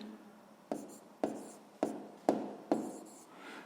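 Numbers being written by hand on paper during a sixth-grade maths exercise, five distinct pen strokes and taps spaced about half a second apart, quiet and close with a faint scratching between them.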